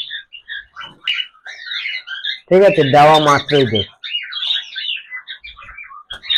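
Conure parrots in an aviary squawk and chirp excitedly at feeding time, with a burst of loud harsh squawks in the middle and scattered high chirps throughout, while a person talks nearby.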